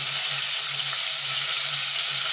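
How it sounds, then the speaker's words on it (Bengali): Paneer pieces fry in oil in a pan, a steady close-up sizzle with a faint low hum beneath, continuous and without talk, for a pea and paneer dish made without onion or garlic. "পনিরগুলো দিয়ে খুব ভাজবো না, হালকা করে ভেজে নেব"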